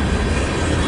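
A long freight train passing on the rails at Fostoria, Ohio, a loud, close, continuous rumble with wheel clatter filling the short moment.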